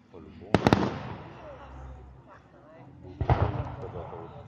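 Festival fireworks burst in Hanover, Germany, with a couple of sharp bangs early on and another cluster later, heard at a distance under people chatting.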